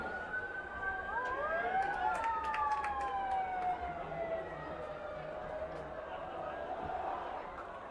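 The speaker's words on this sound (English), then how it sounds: "Apologize for the sirens in the background." Police and other emergency vehicle sirens wail in the background at a Friday night high school football game, rising and falling tones sweeping steadily throughout, with a crowd murmuring and clatter beneath.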